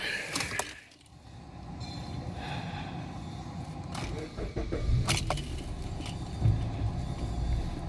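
A Suzuki SX4 engine starts and runs after cranking trouble, a steady nearby drone with scattered clicks and clatter throughout.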